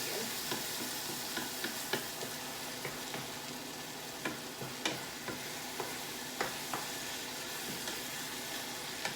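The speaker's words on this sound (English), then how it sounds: "Now it's time to stir this again." Vegetables cooking over higher heat in a pan are stirred, giving a steady sizzle with regular scraping and tapping of a utensil against the pan, close and even in level.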